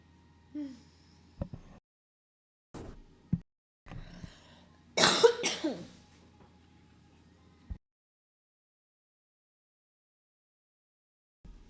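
A single person coughs several times in short separate bursts, one louder harsh fit in the middle, close to the microphone in a quiet room, with a low steady hum underneath and silence toward the end.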